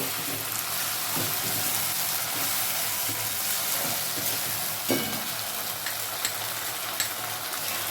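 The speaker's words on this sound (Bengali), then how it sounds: "এরপরে আমরা এই স্টেজে এই মশলাটাকে ধীরে ধীরে দেব আর নাড়তে থাকবো।" Spice paste hits hot oil and is stirred in a pan, giving a continuous hissing sizzle with a few distinct spatula knocks against the metal, close up and with no voices.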